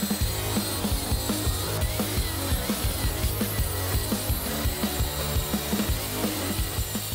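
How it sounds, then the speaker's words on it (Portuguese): An angle grinder with a flap disc grinds down a metal weld, a steady close abrasive whir with rhythmic pulses as the disc is worked back and forth, running alone without talk. "Disco flap, eu uso bastante ele pra fazer desbaste de solda assim"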